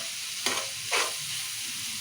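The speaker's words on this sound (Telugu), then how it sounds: "మంచిగా వేయించుకోవాలి ఉల్లిగడ్డ." Onions with chillies and salt frying in a pan for a tomato curry, a steady soft sizzle broken by two quick scraping stirs, close and without speech.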